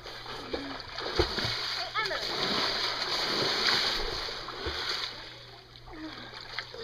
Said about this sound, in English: trying to kick water in my face